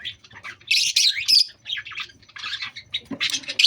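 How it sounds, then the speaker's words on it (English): Pet lovebirds chirp and squawk in short, sharp bursts, several calls overlapping near the listener with brief pauses between them. "And that is my lovebirds."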